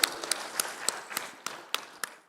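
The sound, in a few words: audience applause for conference speakers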